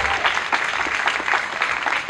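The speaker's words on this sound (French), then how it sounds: "est-ce qu'on peut faire mieux à titre d'applaudissement" A crowd claps steadily and fairly loudly throughout, with dense, continuous applause and no clear speech over it.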